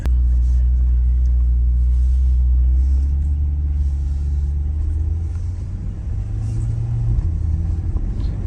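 A 2022 Corvette C8 drives along with a deep, steady engine rumble and road noise from inside the cabin, loud and continuous with no clear revving.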